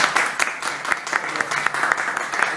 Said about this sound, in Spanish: Quiero que nos recibamos con un aplauso